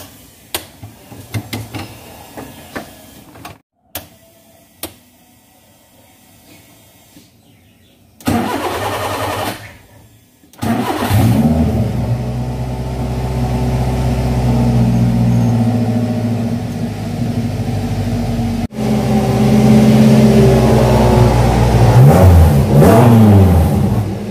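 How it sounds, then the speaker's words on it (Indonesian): A Daihatsu Hijet pickup truck modified for slalom racing cranks a few times, then catches and starts, settling into a loud steady idle with repeated revs, close up. "sekarang kita bakal coba hidupin, bisa hidup nggak mobilnya"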